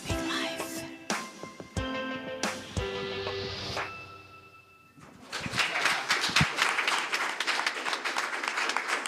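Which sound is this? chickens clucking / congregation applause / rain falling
congregation applause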